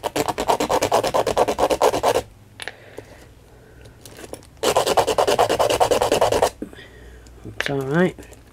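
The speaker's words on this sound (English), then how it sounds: "We'll sand these down while we're waiting." Small glued pieces of a miniature fireplace are sanded with rapid, rhythmic rasping strokes in two close bursts of about two seconds each. A brief voice is heard near the end.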